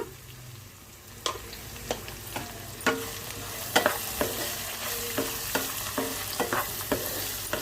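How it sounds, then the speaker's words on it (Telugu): Onions and green chillies fry in a pan for a potato fry, with a steady sizzle beneath repeated sharp scrapes and taps of a spoon stirring at close range, no voices. "ఉల్లిపాయలు పచ్చిమిర్చి కూడా వేగిపోయినాయండి"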